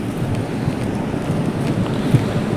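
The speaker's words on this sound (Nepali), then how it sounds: "आज हावा चाहिँ जोड लागिरहेको रहेछ" Strong wind blowing outdoors, a loud continuous low roar buffeting the microphone with slight gusty swells throughout and no speech.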